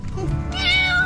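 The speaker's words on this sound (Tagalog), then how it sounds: "Iring nga puti." A white cat meows briefly, close and fairly loud, with a rising tonal cry in the second half over faint background voices.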